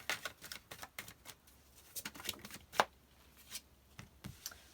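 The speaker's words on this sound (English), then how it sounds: "So I'm going to start shuffling" Soft papery riffling and light taps of tarot cards being shuffled, in irregular bursts with one sharper flick, quiet and close with no talking.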